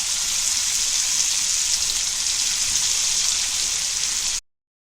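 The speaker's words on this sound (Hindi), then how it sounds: "गरम गरम तेल में मच्छी फ्राई करेंगे" Fish frying in hot oil in a home kitchen, a loud, dense, continuous sizzle that cuts off abruptly near the end.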